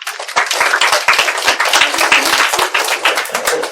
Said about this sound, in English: Give her an applause.